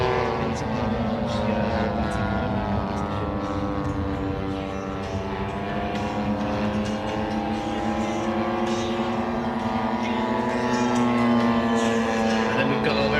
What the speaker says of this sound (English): there's a second P-47 flown by Alan Griffiths, who's been flying models for 36 years